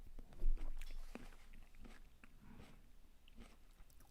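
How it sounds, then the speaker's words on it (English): Loud chewing and biting of food close to the microphone, with irregular crunchy bites and wet mouth noises over a quiet room background. "Sorry, I won't chew so loud."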